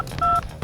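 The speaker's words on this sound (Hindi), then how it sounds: "पहला नंबर लगा के देखो" Keypad tones sound as a telephone number is dialed in a crime drama, a few short electronic beeps in quick succession, clear and close, with no speech.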